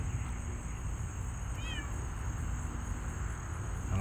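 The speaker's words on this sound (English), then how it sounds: "Right there's little scaredy cat." A shy cat from an outdoor colony gives one short, faint meow partway through, over a constant hiss of background noise.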